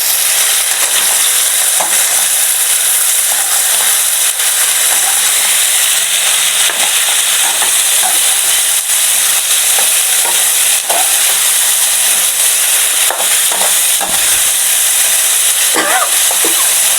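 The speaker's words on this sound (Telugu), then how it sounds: "ఇది ఇట్లా వేగుతుంది కదా" Tomato, green chilli and onion fry in hot oil in a pan, giving a loud, steady sizzle and hiss with occasional stirring scrapes and pops throughout.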